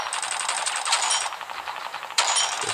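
Rapid gunfire in a WW1 polygon-style infantry shooter game on Android, a dense rattling burst of shots that pauses briefly, then resumes sharply and loud near the end, with no talking.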